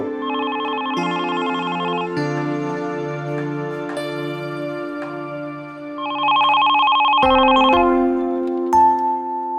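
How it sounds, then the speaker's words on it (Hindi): A landline telephone rings with a repeating electronic melodic tone, loud and close, continuing in steady bursts with no voices. "लगता है समर का फोन आ रहा है।"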